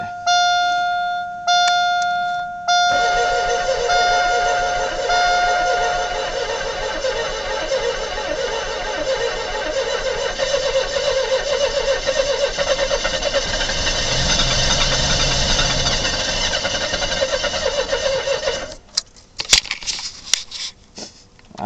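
A 1995 Chevy engine with a knocking problem cranks for a long stretch without firing, giving a steady droning starter whir after a couple of short bursts, then stops. A few clanks follow near the end.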